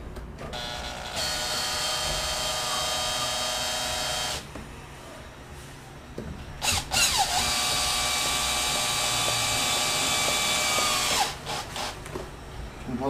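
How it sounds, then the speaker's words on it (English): A power drill drives a screw into a window stop on a double hung window, whirring loudly in two long bursts of about four seconds each, separated by a short pause with faint handling noise. "I'm going to drive the screw in."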